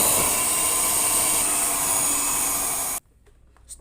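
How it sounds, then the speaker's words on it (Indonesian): An electric mixer beats ice cream batter at a higher speed, giving a loud, steady whirring drone for about three seconds before it cuts off abruptly, leaving near silence. "teman-teman boleh menambahkan kecepatan mixernya ya teman-teman ya"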